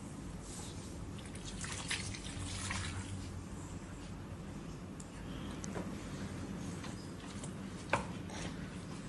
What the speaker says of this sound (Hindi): इसमें हम 2 कप पानी के शामिल कर देंगे।